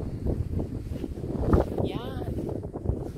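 Wind gusting outdoors in hot weather, buffeting the microphone with a steady low rumble through the clip while a person talks over it.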